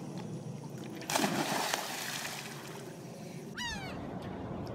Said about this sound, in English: These are the seagulls down here.